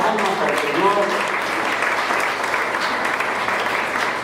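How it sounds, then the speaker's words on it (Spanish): A church congregation claps as an offering of applause, steady and dense from start to finish, with a voice faintly audible beneath the clapping. "Tengo una ofrenda de palmas al Señor"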